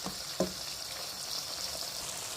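Spice masala for Mughlai restaurant-style Chicken Changezi being fried in hot oil, a steady close sizzle with a couple of soft knocks near the start.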